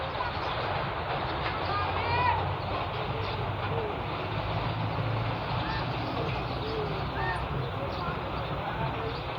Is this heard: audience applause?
no